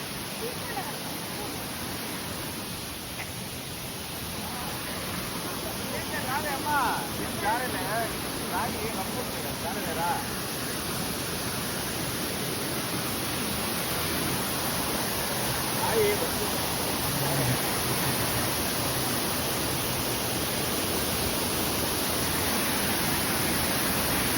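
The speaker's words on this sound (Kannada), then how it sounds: "ನೀರು ಬರ್ತಾ ಇದೆ" Steady rushing water flows through the Chikmagalur hills, a broad continuous wash like a nearby stream or small waterfall, constant throughout and fairly loud.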